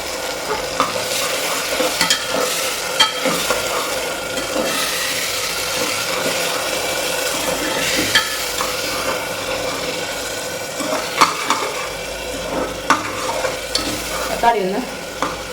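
Tomato, green chillies and garlic sautéing in a pan, with a continuous soft sizzle and repeated scraping and stirring strokes of a spoon against the pan, close and steady.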